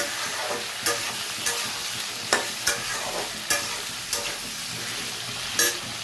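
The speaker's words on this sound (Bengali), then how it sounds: "এই জিরে ফোড়ন দিয়ে পেঁপে আর আলুগুলো দিয়ে দিলাম" Papaya and potato pieces frying with cumin seeds in hot oil, a steady hiss with repeated spatula scrapes and taps at irregular intervals, close by.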